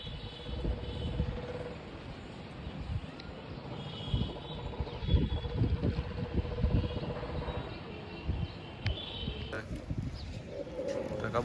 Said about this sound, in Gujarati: કબૂતર ઉતરી ગયું.